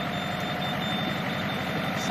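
A 30-horsepower Mitsubishi tractor runs with a 3.4-metre folding rotary tiller, giving a steady, loud engine drone with a thin high whine over it and no pauses.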